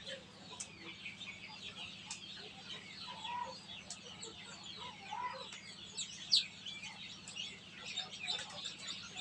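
Newly hatched chicks inside a DIY 110-egg incubator chirp in thin, high peeps, with clucking-like calls scattered over a steady low fan hum, and no talk.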